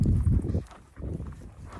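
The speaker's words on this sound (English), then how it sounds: "I'm riding Boudreaux today, and he's doing pretty darn good." A ridden horse on a working ranch plods along in steady, muffled hoof clops, close and fairly soft, with no talking.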